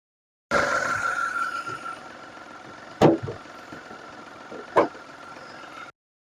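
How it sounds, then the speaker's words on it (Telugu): A 2016 Mahindra KUV100 K8 engine idles with a steady low hum, broken by two sharp knocks or clicks partway through. "చూడండి ఇంజన్ కూడా చాలా అంటే చాలా నీట్గా ఉంది వెహికల్ ఎంత స్మూత్గా ఉందంటే"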